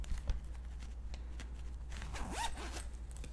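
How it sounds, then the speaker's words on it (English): A zipper on the side zip pocket of a Vera Bradley velvet bag, pulled in one quick rising zip, close and clear over a quiet room. "And there's also a zip pocket on the side."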